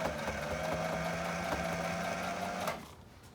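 A sewing machine stitching a wheat bag runs steadily with a fast mechanical whir and rattle for a few seconds, then stops abruptly.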